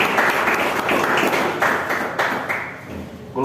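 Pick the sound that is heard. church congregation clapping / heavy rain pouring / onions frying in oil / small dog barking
church congregation clapping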